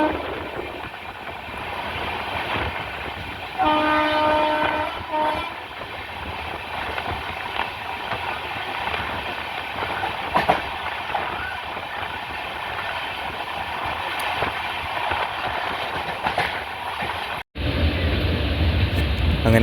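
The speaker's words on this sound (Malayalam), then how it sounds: "തിരുവനന്തപുരം സെൻട്രലിൽ എത്തിയിരിക്കുകയാണ് ട്രെയിൻ" A Jan Shatabdi passenger train in Kerala rolls along steadily toward Thiruvananthapuram Central with a continuous rumble and rattle, a brief high tone sounding partway through and a sharp break near the end.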